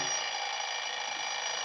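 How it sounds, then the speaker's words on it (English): A 1940s old-time radio drama sound effect of an alarm clock ringing, a steady, continuous metallic bell clatter held at even loudness throughout, alone with no talk. "I set my alarm for 5 the next morning."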